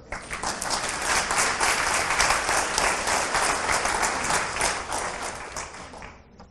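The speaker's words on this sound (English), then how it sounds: "Please give them a round of applause for that." Sustained audience applause fills a hall during a 2018 city address, steady and dense for several seconds before tapering off at the end, with no talk over it.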